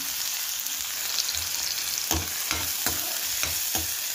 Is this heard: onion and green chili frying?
yes